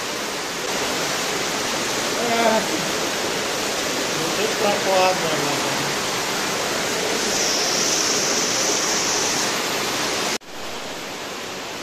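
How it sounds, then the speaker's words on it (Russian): Warm water pouring and splashing across a pedestrian walkway in an underground travertine site, a steady loud rushing hiss throughout, with a person briefly speaking over it before it cuts off abruptly near the end. "Вот тут пешеходная зона, и просто вода выливается."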